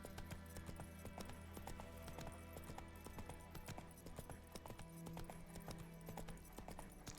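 Horse Roach galloping through The Witcher 3 video game world, a steady rapid clip-clop of hooves running continuously over a low background game score.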